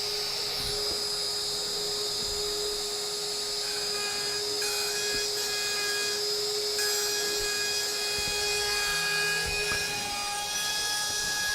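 A CNC router cutting, with a loud steady high-pitched spindle whine and a constant roar of cutting noise throughout, with no speech.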